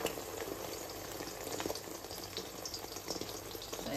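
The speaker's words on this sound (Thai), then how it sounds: "เจียวไก่เหมือนเดิมค่ะ" Chicken frying in a pan of hot oil, a busy crackling sizzle with soft bubbling that runs continuously at close range, no voices.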